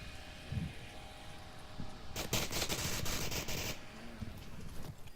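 Gunfire in the VR shooter Onward, heard as one rapid automatic burst lasting about a second and a half, set against steady background game noise.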